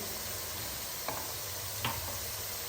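Tomato masala with chopped tomatoes fries in a pan after a little water is added, giving a steady close hiss of sizzling broken by two sharp knocks of a stirring spoon against the pan.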